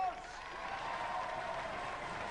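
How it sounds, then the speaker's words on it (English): A crowd at a robot combat competition applauds the robot Roadblock, a fairly faint, steady spread of clapping with a voice speaking over it. "Give Roadblock a round of applause!"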